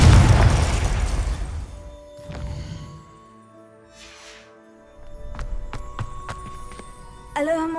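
Confringo fire spell from the video game Hogwarts Legacy erupts in a loud, broad explosive boom that decays over a couple of seconds, followed by quieter game sounds, scattered sharp hits and a bright chiming effect at the end.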